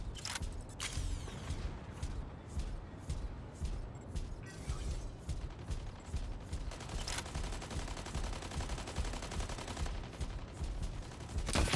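Rapid, sustained automatic gunfire in the mech combat video game Mech Arena, dense bursts of shots running almost continuously at high level with mechanical clatter underneath and no talk.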